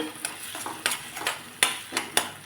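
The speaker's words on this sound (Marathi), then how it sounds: "आता हिला मी छान दोन मिनटं परतून घेते" A pan of potato and raw-peanut chutney is stirred and sautéed, with a spatula scraping in several distinct strokes over a faint, low sizzle. No one speaks.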